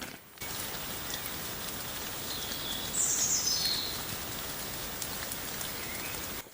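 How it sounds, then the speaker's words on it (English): Light rain falls steadily outdoors in the Roman city of Pompeii, a soft, continuous patter with a faint bird chirp partway through. "Now it's actually starting to rain a little bit."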